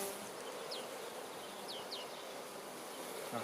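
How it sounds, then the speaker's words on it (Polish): Many honey bees in a swarm hum in a steady, soft, continuous drone, with a few faint high chirps above it. "Pszczoły jak widać zachowują się spokojnie."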